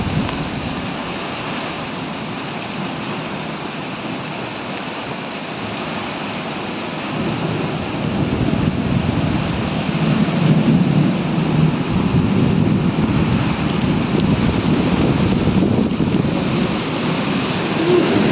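A violent monsoon storm lashes trees outdoors, strong gusting wind roaring steadily with a wash of rain, growing louder and rougher midway; no distinct thunderclap stands out.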